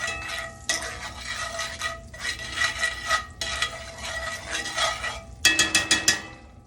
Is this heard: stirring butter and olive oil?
yes